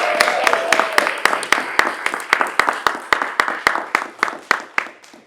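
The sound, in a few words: audience applause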